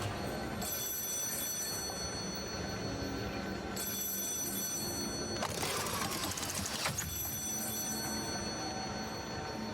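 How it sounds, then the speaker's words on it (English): An electronic telephone rings in a video game trailer, in repeated shrill trilling bursts with a brief louder, noisier segment partway through, set against faint background game audio. "go pick up the goddamn phone"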